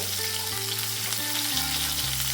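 Garlic cloves and green chillies fry in a pan with a steady, close sizzle, with faint stirring and no voices.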